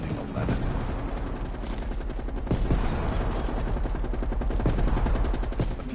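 Bursts of rapid automatic gunfire crackle from Call of Duty Cold War's campaign, with dense rattling volleys and a few heavier shots repeating over a constant battle rumble.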